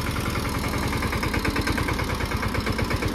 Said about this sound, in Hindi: अभी स्टार्ट हो चुका है ट्रैक्टर, अभी इसको चला के देखते हैं।